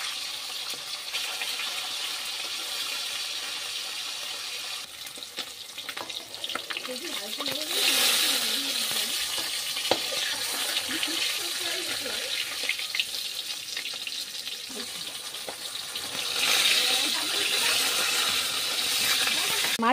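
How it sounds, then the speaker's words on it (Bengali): Pieces of katla fish fry in hot oil in a wok, giving a loud continuous sizzling hiss that swells and fades as the pieces are turned, with occasional clinks and scrapes. "মাছগুলোকে উল্টে পাল্টে দুপাশ ভালো করে ভেজে নিতে হবে।"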